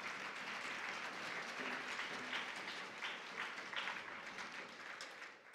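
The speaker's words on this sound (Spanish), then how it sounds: "Fuerte el aplauso para nuestros patrocinadores." Audience applause for sponsors at a regional oratory contest in Los Santos, steady dense clapping from a crowd in a hall, sustained and fading slightly at the end, heard at a distance and fairly soft.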